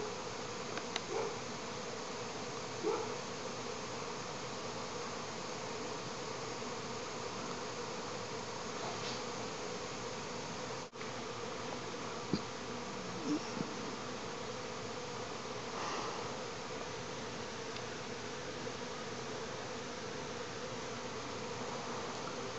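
Honey bees make orientation flights at the hive, a soft, continuous insect buzz with faint individual passes drifting near and away, steady and quiet throughout.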